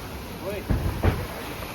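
High-tide sea water surging at Baga Beach, Goa, at night, a brief rush of waves with windy noise swelling twice over a short stretch.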